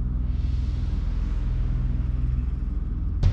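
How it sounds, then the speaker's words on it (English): A car drives past close by, a steady low engine rumble that holds evenly throughout, ending with a brief sharp noise. "Drive the car."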